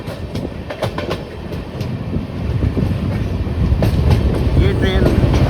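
Amrit Bharat Express passenger train on the Bhagalpur–Gomtinagar route rolling along the rails, with a steady rumble and clickety-clack of wheels that grows slightly louder and closer toward the end.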